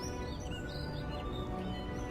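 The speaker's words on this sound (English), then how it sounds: "Gentle music with birds singing." Songbirds chirp in short, high calls over soft, gentle background music in the video game The Wolf Among Us, a steady, fairly quiet ambient scene with no talking.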